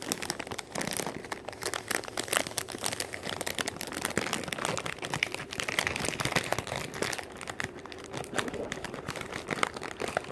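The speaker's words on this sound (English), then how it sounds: "You're going to hear the crinkling of the paper." Close, continuous crinkling of a paper cracker sleeve as crackers are taken out, a dense stream of small crackles and rustles with no talking.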